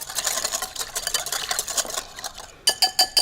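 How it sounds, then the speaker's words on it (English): A dressing of pepper and minced garlic whisked in a bowl, fast rapid ticking strokes, close and fairly loud, ending in a few separate clinks against the bowl. "Just whisk it all together."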